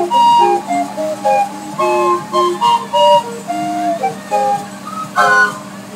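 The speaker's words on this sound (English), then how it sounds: "The calliope, though, is where things get a little bit more interesting instrumentally." A calliope plays a wobbly, whistling steam-organ melody in short reedy phrases over a steady drone, loud and close with no speech.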